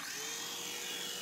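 A small toy helicopter whirs steadily in flight, a high, continuous buzzing motor and rotor whine held close and even throughout, with no voices.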